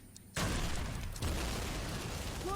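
A loud explosion in the Call of Duty 3 video game bursts in suddenly after a quiet moment, followed by a second heavy blast and a long rumbling roar of debris and noise.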